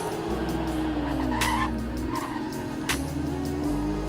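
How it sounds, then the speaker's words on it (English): A Porsche 911 Carrera on a track test, tires squealing and skidding loudly under a droning engine, with the pitch shifting as the car corners. "now we're going to do a track test in the 911"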